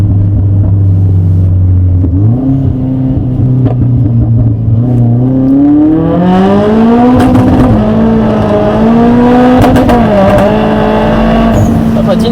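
Porsche GT3 RS accelerating hard on greasy tyres, its loud engine note climbing steadily through a long rev sweep as the wheels spin and scrabble, with road roar underneath throughout.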